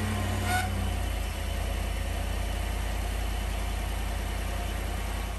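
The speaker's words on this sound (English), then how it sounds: "Now we'll go ahead and start the vehicle." A 2015-2020 GM SUV (Yukon, Tahoe, Suburban or Sierra) engine, just started after a coolant temperature sensor replacement, settles into a steady, loud, close idle hum that continues alone without voices.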